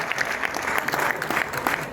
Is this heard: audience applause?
yes